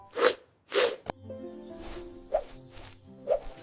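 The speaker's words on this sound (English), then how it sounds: "Have you ever wondered why your body sneezes so suddenly?" Two sharp, breathy sneezes come in quick succession, followed by a dull thump and then soft tonal music with a few light swishes.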